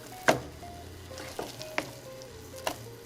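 A spoon stirs whipped mashed potatoes in a pot, giving a few soft scrapes and knocks over a low, steady background hiss, with no voice.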